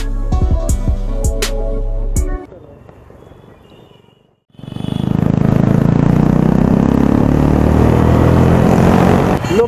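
A group of Suzuki Gixxer SF 150 motorcycles on a Sunday bike rally passes by, their engines rising from a quiet moment into a loud, sustained close roar, with a voice speaking and clattering sounds at the start.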